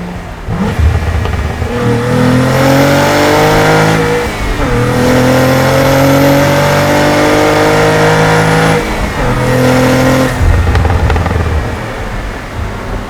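A Cadillac CT4-V Blackwing engine, just past break-in, revs hard and loud, pitch climbing through repeated surges, dropping briefly, then winding up again, with no talking.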